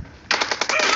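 Rapid automatic gunfire in the mobile game PUBG/BGMI, a loud stuttering burst of about eight closely spaced shots that starts abruptly after a brief quiet stretch.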